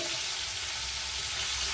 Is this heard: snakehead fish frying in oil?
yes